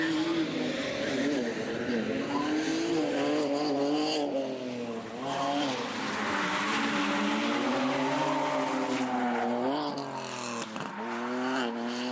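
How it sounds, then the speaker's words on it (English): A stock Nissan 370Z with a VQ37VHR engine drifts on track, giving a loud, continuous engine note that rises and falls with throttle over sustained tire squeal, close and unbroken throughout. "Enjoy some raw drifting footage"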